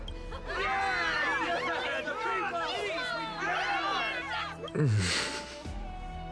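Crowd chatter from a scene in the video game Honkai Star Rail: a dense, steady murmur of many overlapping voices at moderate loudness, ending in a brief louder burst of noise.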